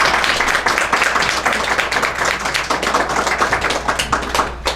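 An audience at a book presentation on high abilities claps loudly and close by. Individual hand claps are sharp and distinct in a fast, uneven patter that keeps going throughout.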